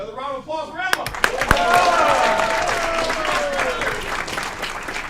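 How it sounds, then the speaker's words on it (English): A round of applause at a city council meeting in Aurora breaks out after a brief voice, with a few sharp knocks and claps first, then a sustained burst of clapping from a sizeable room. "Another round of applause for Emma."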